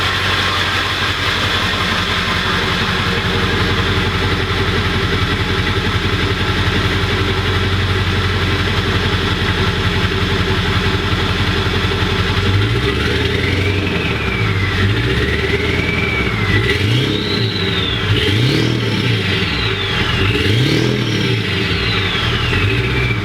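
The T444E diesel engine of a Ford E-450 Super Duty camper van runs at a steady idle, then revs up and down in several rising and falling surges, loud and close, with no talking.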